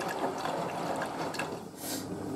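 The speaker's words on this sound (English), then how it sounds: "See how surprisingly fast this machine empties" Water draining from a Hotpoint WD640G Aquarius+ washing machine during a 95°C white cotton wash, a steady rushing, gurgling flow with a brief hiss near the end, heard close and alone.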